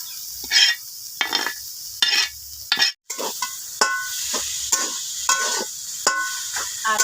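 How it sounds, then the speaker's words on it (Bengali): Cabbage and egg being stir-fried in a pan: repeated scraping strokes of a spatula against the metal, roughly one per second, over a steady background sizzle, close and fairly loud. "ডিম আর এই কপিকে আমি 2 মিনিট মতো কষিয়ে নিয়েছি। এবার এখানে তাওয়ায় যে আমি কপিটা ভেজেছিলাম দিয়ে দিব কপি।"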